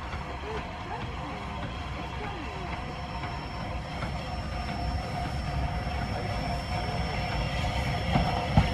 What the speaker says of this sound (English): there's a train coming along. It's almost dark, and that's tootling along.